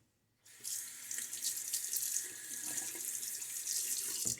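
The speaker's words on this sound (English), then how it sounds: "And let me get a good rinse." A bathroom tap runs steadily to rinse a safety razor after a shave, a close, continuous hiss of water into the sink lasting several seconds after a brief quiet start.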